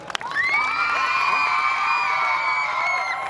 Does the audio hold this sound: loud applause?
yes